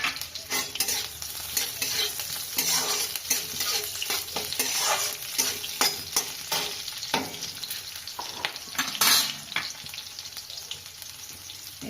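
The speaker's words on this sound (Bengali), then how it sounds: "এবার মেথি দানা দিচ্ছি" Fenugreek seeds sizzling in hot oil for a Bengali-style tomato chutney, a steady crackling hiss broken by sharp spits and pops, close and alone with no voices.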